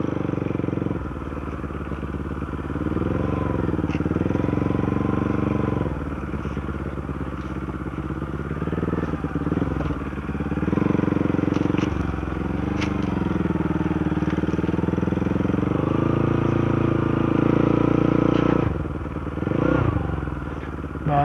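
A motorcycle engine drones and revs unevenly nearby, rising and falling in pitch as it rides past over a rough surface.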